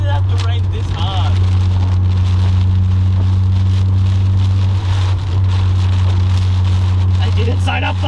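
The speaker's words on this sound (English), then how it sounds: "Bro, why did it have to rain this hard?" Dense, heavy rain hisses steadily over a loud low Mazda RX-7 engine drone, with voices talking over it throughout.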